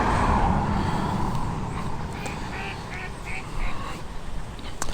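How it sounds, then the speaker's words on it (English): Canada geese and ducks calling by the water, a scatter of honks and quacks rising over steady outdoor background noise, with a few sharper calls near the end. "And there they go, the Canadian or Canada geese. So plenty of bird life here."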